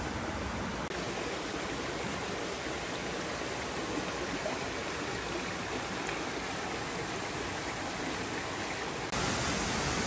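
A Georgia creek flows steadily in summer, a constant broadband rush of running water that holds unbroken and fairly close for about ten seconds with no voices.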